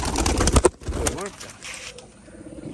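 A Giribaz pigeon coos briefly in a loft, a soft throaty coo mid-clip following some close handling noises, with a person talking nearby.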